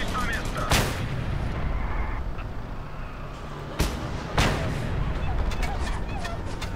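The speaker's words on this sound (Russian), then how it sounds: "Ребята, в меня кто-то стреляет." Gunfire in a monster truck video game, with a few sharp shots and booms at irregular intervals over steady engine and game background noise.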